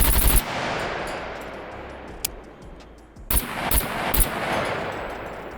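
AK-15 rifle firing in the video game SCUM: loud sharp shots, one at the start, a lone crack near the middle, then three quick reports close together, each trailing into a long outdoor echo.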